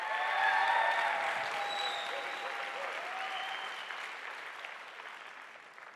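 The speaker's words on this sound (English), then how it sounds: "Come on, clap it up if you know that this is gonna be the best district in the state of Michigan." An audience at a school district gathering in Michigan breaks into loud, sustained clapping that swells early and then slowly tapers off, with a few faint whoops and cheers mixed in.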